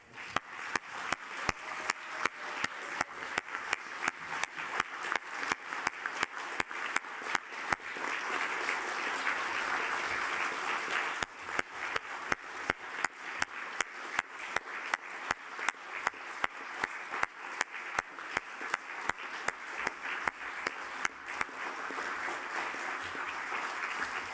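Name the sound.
audience applause at council meeting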